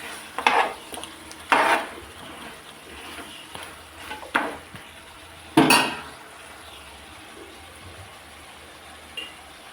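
A spoon scrapes and clanks against a pot as mutton curry with cashew and garam masala paste is mixed, in a few separate loud strokes spaced by quiet gaps, with a faint simmer underneath and no voices.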